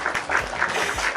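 A small audience claps briefly, a quick patter of soft, uneven hand claps that sounds thin and a little hollow.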